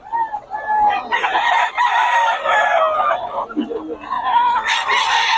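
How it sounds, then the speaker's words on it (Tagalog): Gamecock roosters crow and cluck loudly, close by, with overlapping calls from several birds among other fowl, while people talk over the birds throughout. "Solid ang mga manok ni Boss Eric."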